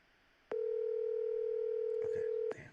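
A phone call tone: a single steady electronic tone held for about two seconds as the line rings out, with brief clicks at its start and end and a faint voice near the close.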